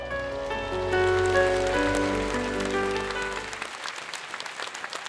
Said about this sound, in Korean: 정각회 회장이신 주호영 의원님의 축사를 박수로 청해 듣겠습니다